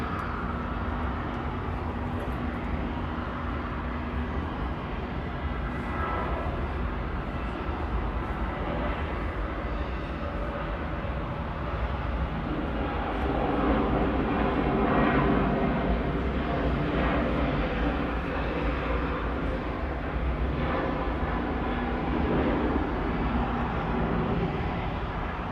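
A jet airliner passes at Atlanta's airport during plane spotting, a steady broadband engine roar that swells to a peak midway and holds loud throughout, with no talk over it.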